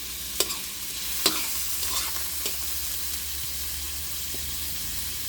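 Bihon rice noodles and pork being stirred in a hot pan, a steady frying sizzle with a few sharp scraping clicks of the utensil, close and continuous with no talk.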